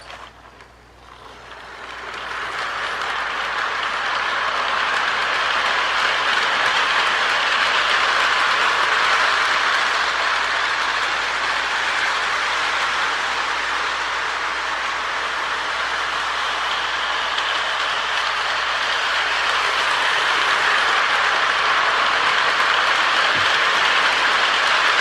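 A custom Lionel Vulcan switcher model diesel locomotive runs on track with a steady, loud whirring motor hum and rolling rail noise that builds after a brief quiet start and continues unbroken.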